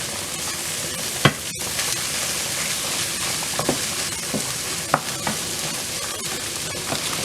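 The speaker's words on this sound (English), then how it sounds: "Ah, I forgot to add the garlic too. Go ahead and add that in there. Set that to the side so it can cook a little bit" Garlic frying in a pan alongside potatoes for corned beef hash, a steady close sizzle with a few sharp clicks and scrapes of a utensil scattered through it, no talking.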